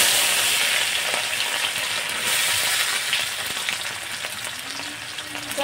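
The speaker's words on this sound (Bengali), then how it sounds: "দিয়ে দিলাম সরিষার তেল কড়াইতে দিয়ে দিচ্ছি শুকনো লঙ্কা গোটা গরম মশলা কুচি" Dried red chillies and chopped whole garam masala fry in mustard oil in a kadai, giving a continuous close crackling sizzle with light stirring and no voices.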